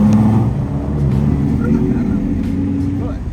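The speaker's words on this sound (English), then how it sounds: "You hear Hugo's car?" A BMW F80 M3's engine rumbles steadily close by, a continuous loud low drone under people talking, with no sharp rev spike.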